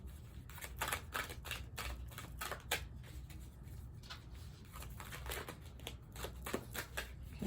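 Rapid riffling and snapping of playing cards being shuffled, repeated bursts of crisp clicks close by, fairly quiet overall.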